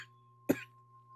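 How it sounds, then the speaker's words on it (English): A single short, sharp cough, close and fairly loud, over a quiet steady hum. "Oh, I do apologize for coughing."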